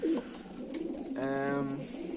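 Young pigeons coo softly with a low, rolling, throaty call, preceded by faint rustling and a brief chirp, close by in a quiet space.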